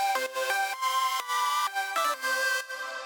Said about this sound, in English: I created this little transition here where the main lead is actually going up as the other layers go down